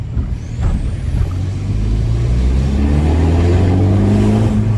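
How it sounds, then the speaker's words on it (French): A Seat Ibiza engine revs steadily while the car drives, a loud continuous low drone with rising harmonic tones, alone with no talking. "Ah, je suis refait, la voiture, elle roule, il n'y a pas de galère."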